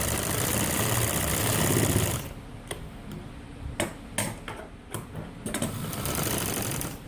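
A sewing machine runs steadily for about two seconds while stitching the front pocket of a men's kameez, then stops, leaving a few sharp clicks and handling taps against a quieter background.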